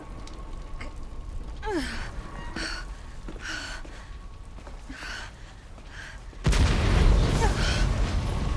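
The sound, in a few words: explosion in the video game Resident Evil 2 Remake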